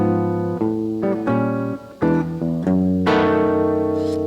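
A guitar plays a chromatic blues turnaround, a few ringing chords sliding step by step before landing on a final sustained chord, clear and close with no voice.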